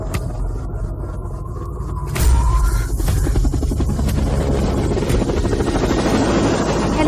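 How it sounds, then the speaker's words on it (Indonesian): A helicopter's rotor thumps and engine rumble swell in loudly, a steady chopping drone close overhead. "Helikopter."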